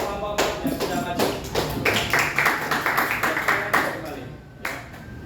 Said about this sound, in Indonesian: Tepuk tangan untuk kelompok yang sudah maju.